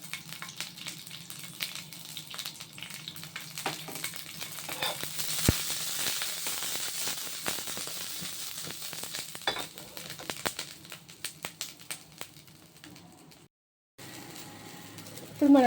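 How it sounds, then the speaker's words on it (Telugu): Chopped green chillies fry in a spoonful of oil in a pan with a steady, soft sizzle and crackle. Occasional stirring taps sound over it, faint bird coos drift in from the background, and the sizzle cuts out briefly near the end. "ఇప్పుడు మన పచ్చిమిర్చి బాగా వేగింది కదా"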